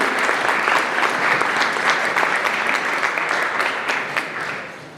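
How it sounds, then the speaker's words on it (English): Steady applause from an audience standing at an open house and oath of office meeting, filling the room evenly and holding strong before easing off toward the end. "please give him a round of applause as we all stand"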